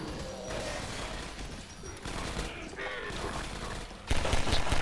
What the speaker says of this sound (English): Just blow that grenade.